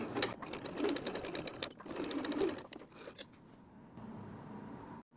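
Sewing machine stitching a fabric mask, two bursts of fast rhythmic mechanical whirring and needle clatter up close, followed by a quieter steady hum as it slows near the end.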